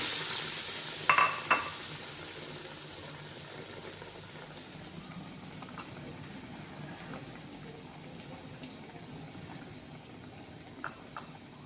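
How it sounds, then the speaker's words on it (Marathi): Besan-coated batata vada frying in oil over a medium gas flame, a steady soft sizzle with a couple of sharp clinks near the start and faint utensil taps later. "मीडियम गॅसवर आपल्याला हे तळून घ्यायचे आहेत"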